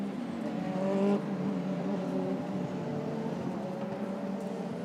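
Super GT race cars run at the SUGO circuit in the 2019 Round 7 race, weaving to warm their tires. A steady, layered engine drone sounds at mid-distance and swells slightly as the cars pass.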